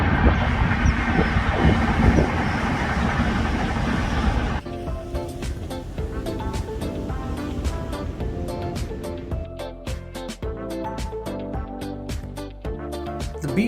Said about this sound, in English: One good pastime is to see if some trains are passing by.